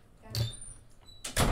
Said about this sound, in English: Wait, close my door.